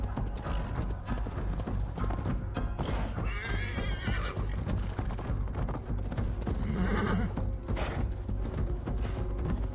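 Horse in the Viking-era game Assassin's Creed Valhalla whinnies twice over the steady clip-clop of hooves, with a low mechanical hum underneath and no talk.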